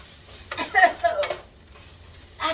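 Strong fresh onions stirred in a frying pan, a few scraping stirs with light sizzle in close, brief bursts, a voice speaking nearby.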